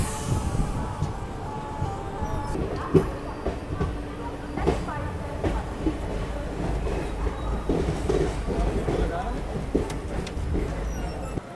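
A special train pulls into Vijayawada station at night, its steady rumble and rolling wheel noise filling the platform with occasional clanks, while people talk nearby throughout.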